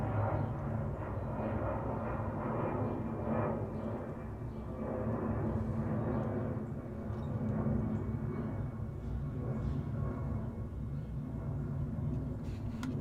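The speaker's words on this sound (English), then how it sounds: "It's not even as loud as some of the other jets that go over." A jet airplane passes overhead as a fairly tame, steady broad rumble that swells gently and fades, heard from below at a distance with no talk.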